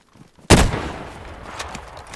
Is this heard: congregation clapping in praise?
no